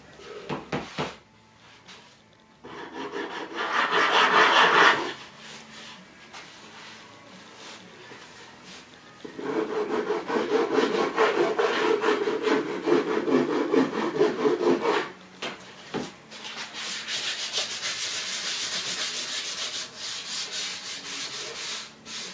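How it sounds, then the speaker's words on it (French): A wooden battery dispenser box is sanded by hand in bursts of rough, rhythmic rubbing strokes, close and fairly loud, separated by brief pauses. "Il me reste plus qu'à faire les beaux arrondis tout autour et un coup de ponçage pour que la boîte soit"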